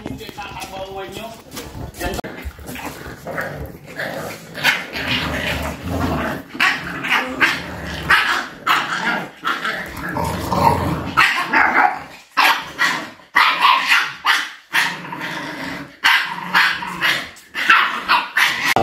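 Several American Bully puppies bark, yip and growl almost continuously and close by, with a person talking over the noisy scuffle throughout.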